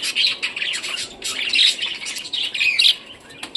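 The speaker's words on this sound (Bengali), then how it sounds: "এটা আছে স্প্যাঙ্গেল রেনবো বাজিকর পাখি" Spangle rainbow budgerigars chirping and squawking in a dense, continuous chatter of many birds close by, with no talk over them.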